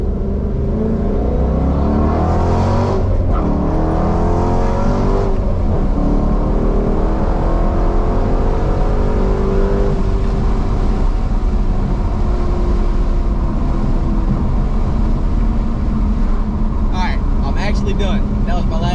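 A manual Dodge Challenger SRT accelerates hard, its engine roaring loud and close and climbing in pitch through several gear changes over a long sustained pull.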